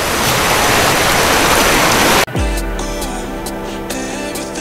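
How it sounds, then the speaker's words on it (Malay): The Black Hole waterfall at Sungai Lembing roars as a dense, loud, steady rush of falling water for about two seconds. The scene then cuts abruptly to a quieter, different sound. "Keadaan terkini di air terjun Black Hole."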